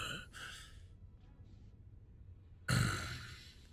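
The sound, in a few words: game master imitating breathing sound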